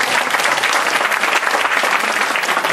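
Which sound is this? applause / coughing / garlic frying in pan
applause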